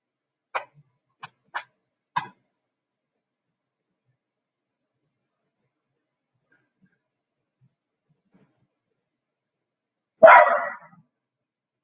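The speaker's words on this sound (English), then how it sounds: "You know you're not supposed to bark." A dog indoors gives three faint, quick yaps in a row, then a long silence, then one louder bark near the end, with no talking.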